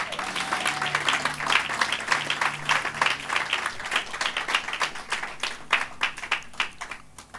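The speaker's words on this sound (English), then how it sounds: "Can you give a clap offering to the Lord Jesus?" A church congregation gives a clap offering: a steady ragged patter of many hands clapping that turns into rhythmic, accented claps, with a voice speaking briefly at the start.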